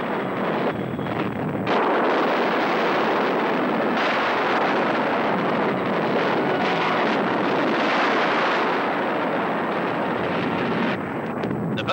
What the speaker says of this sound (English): Personnel on the ground turn their backs on the vivid explosion.